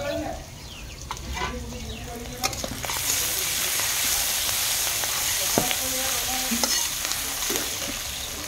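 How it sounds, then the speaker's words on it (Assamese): Garlic and onion hit hot oil in a pan, bursting into a loud steady sizzle with scraping stirs and clinks, while faint birds and goats sound in the background. "এতিয়া মই নহৰু পিঁয়াজখিনি অকণমান ভাজি ল'ম"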